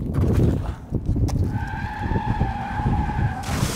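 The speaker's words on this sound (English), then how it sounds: "Was that a car crash? I think I just heard a car crash." Car tires skid with a long, sustained high squeal over a rumbling, noisy background, lasting several seconds at close range.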